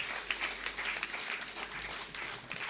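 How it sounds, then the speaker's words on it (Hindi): Audience applause after a speech at a theatre award ceremony, a steady wash of many hands clapping at moderate distance, fairly soft and even throughout without a clear break. "एक बार जोरदार ताली आदरणीय सिन्हा साहब के उद्बोधन के लिए।"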